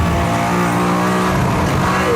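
A Mercedes-AMG ONE hypercar with a 1063 PS Formula 1-derived powertrain accelerates hard with its DRS activated, giving a loud, continuous engine roar that holds steady and close throughout.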